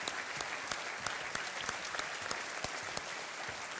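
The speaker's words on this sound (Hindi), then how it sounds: "तालियों के साथ इनका अभिनंदन" A television quiz show studio audience claps, a faint, dense patter of applause with scattered sharper claps standing out, steady and unbroken.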